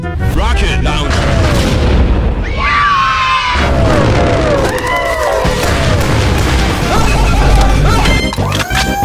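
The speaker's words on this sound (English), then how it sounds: "Rocket launcher." A cartoon rocket launcher in a Poppy Playtime Chapter 3 animation sets off loud booming crashes and smashes, with whistling, sliding tones and scream-like cries layered over the continuous chaotic blasts.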